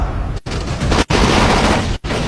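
Gunfire in the video game Dying Light: loud sustained bursts of rapid shots broken by two brief gaps, close and dense.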